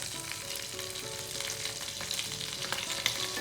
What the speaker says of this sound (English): Oil's pretty hot, so you just need to give that a stir.